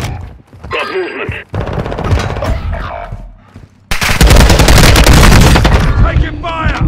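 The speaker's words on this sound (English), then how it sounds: "Taking fire!" Heavy gunfire in Call of Duty: Modern Warfare II: scattered shots and bursts give way to a loud, sustained barrage of automatic fire and blasts, with game voices calling out between the bursts.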